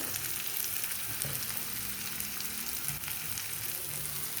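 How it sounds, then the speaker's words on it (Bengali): Chopped onion, capsicum, ginger, garlic and green chilies frying in a pan for veg Manchurian, a dense continuous hiss of sizzling oil, close and even, with a few soft stirring touches. "সব এবারে একটু ভালোভাবে ভেজে নেব।"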